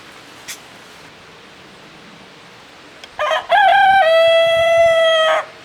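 A rooster at a homestead coop crows once, loud and near, in a long rising and held call after a brief cluck, over a quiet outdoor background.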